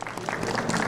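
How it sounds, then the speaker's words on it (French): An audience at an honorary award ceremony applauds in a short burst of dense, even clapping at moderate loudness. "je vous demande de l'applaudir, Moussa Mansa."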